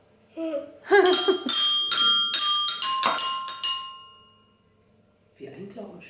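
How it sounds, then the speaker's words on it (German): Bright metallic chimes ring out in a quick melodic run, close and clear, with a voice briefly before and a voice after. "Wie ein Glockenspiel."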